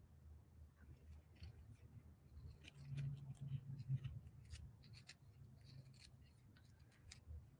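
Scissors snip in small, irregular cuts as they trim closely around decoupage napkin images. The sound is faint and close, with a soft bump of handling midway, and there is no speech.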